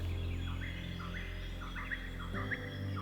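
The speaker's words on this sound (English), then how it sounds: "The birds are starting to sing again" Spring birdsong in Australian bush: several small birds chirp and trill in repeated short phrases, faint and somewhat distant, over a low steady background hum.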